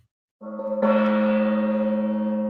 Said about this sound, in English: This gong.